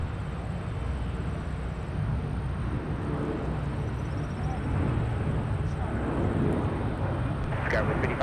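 Delta 2972, an airliner, landing on runway 30 left at Minneapolis–St. Paul airport: a steady, broad engine roar held at a distance throughout, with a faint high whine above it.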